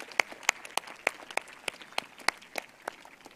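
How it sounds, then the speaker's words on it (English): School assembly audience in Mumbai giving a round of applause to welcome the new student council, sparse, distinct claps at an irregular rhythm, fairly faint and distant, from only a few hands. "let's give them all a big round of applause to welcome them"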